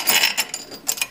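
A wrench torques bolts on a gasketed flange during a creep relaxation test, giving a brief burst of sharp ratcheting clicks up close, with no talking.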